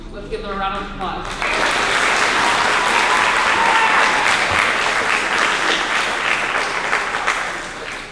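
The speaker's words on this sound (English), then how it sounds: "Let's give them a round of applause." Sustained audience applause at a middle school eighth grade awards ceremony, a large crowd clapping steadily and loudly after a brief lead-in, holding full for several seconds before easing slightly at the end.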